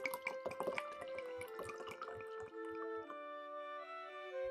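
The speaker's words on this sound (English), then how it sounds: "with our measuring cup, we're gonna wanna fill it to about 13 milliliters with water" Water poured into a measuring cup in a home kitchen, a bright rising pour with drips and clinks that gives way to a sustained ringing tone in the final second.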